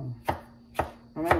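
A knife chops onion finely for shrimp ceviche, giving three crisp, close cutting thuds spaced about half a second apart against a quiet kitchen background.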